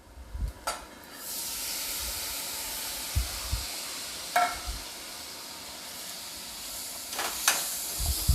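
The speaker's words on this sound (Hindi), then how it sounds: "चना को मैं आधे मिनट तक भून लूंगी।" Soaked chana dal fries with spices in a pan, hissing and sizzling steadily, with occasional knocks of a spoon stirring against the pan.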